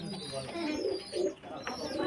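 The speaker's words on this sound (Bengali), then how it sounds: "দেখুন পায়রা এক সে এক পায়রা আছে" Pigeons in a loft near a rail station coo in low, rolling bursts close by, with a faint chirp among them and voices talking in the background.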